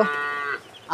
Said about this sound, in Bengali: গরু ওইদিকে ডাকতেছে।